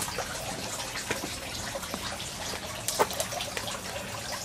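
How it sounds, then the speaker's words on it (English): Collected rainwater runs through a hose into an aquaponics tank, giving a steady close trickle and splash with scattered drips throughout. "I'm running my water that I've collected, my rainwater that I've collected through the hose you see there"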